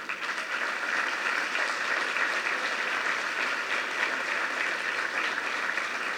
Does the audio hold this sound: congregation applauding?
yes